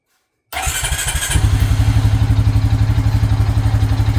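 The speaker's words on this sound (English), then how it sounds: "So, ignition on, see what it does." A neglected Honda Rancher ATV brought back after being abandoned, cranking for a moment and then catching into a loud, steady, close idle with a rhythmic, slightly clattery engine pulse.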